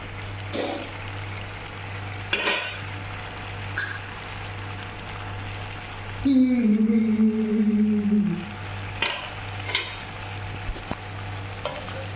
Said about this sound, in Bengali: মাংস সিদ্ধ হয়ে গেছে, এখন শুধু একটু ফ্রাই করে নিব যাতে কালারটা সুন্দর আসে